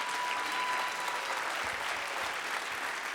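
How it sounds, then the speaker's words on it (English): A comedy club audience applauds steadily, with dense clapping at an even level that fills the room and stays close and continuous, with no voices rising above it. "Hey, keep your applause going for one of your own from Greensboro, North Carolina, Mr. Tom Simmons, folks."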